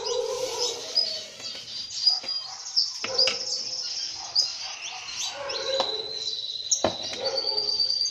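A caged canary chirps and trills in a steady series of high, bright calls, close and fairly loud against a quiet indoor background, with no talking.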